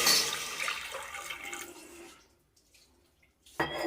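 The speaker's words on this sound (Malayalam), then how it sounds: "ഇനി ഇതിനകത്തോട്ട് കുറച്ച് വെള്ളം ഒഴിച്ച് കൊടുക്കാം." Water pours into a pressure cooker holding jackfruit seeds and green chillies, a splashing gush that fades out, then a brief clink of handling after a pause.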